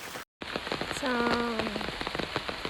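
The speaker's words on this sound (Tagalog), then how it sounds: "malakas pa rin po yung ulan ngayon." Heavy rain pours steadily in the Philippine countryside, a constant close wash of drops on surfaces, broken briefly by a short dropout, while a drawn-out tonal hum sounds in the middle.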